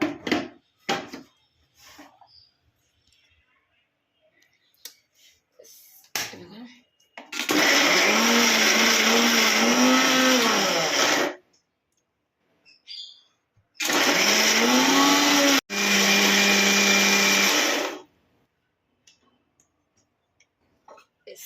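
A mixer grinder blending ABC juice ingredients into a paste in two loud, steady whirring bursts of a few seconds each, close by, with brief handling clicks between them and some talking before and after.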